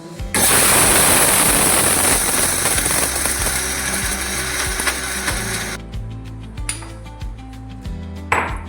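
A mixer grinder whirs loudly as it grinds roasted sesame seeds, chana dal, urad dal and curry leaves into powder, a steady dense roar that cuts off and gives way to clinks and taps of the jar.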